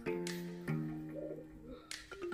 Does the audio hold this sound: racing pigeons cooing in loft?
yes